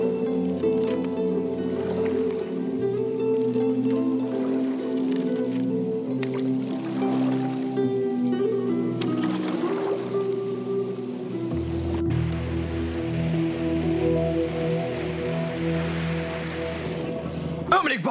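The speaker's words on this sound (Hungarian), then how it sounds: "Víz ömlik be." Water pouring and gurgling into a boat in a 1986 dubbed action adventure film, sloshing and splashing beneath a low rumbling score with some voices.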